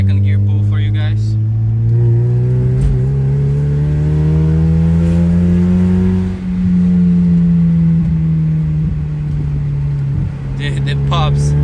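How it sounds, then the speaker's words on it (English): A Mazda Miata revs hard through a second-gear pull, its engine note loud, close and steady, climbing gradually in pitch with a brief dip partway through. "Here's a little second gear pull for you guys."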